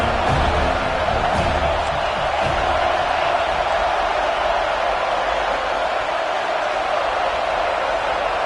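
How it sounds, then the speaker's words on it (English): A stadium crowd roars at a football game, forcing a false start with a dense, sustained wall of noise. Faint whoops and slams rise out of the roar early on. "with this place rocking, the crowd forces a false start"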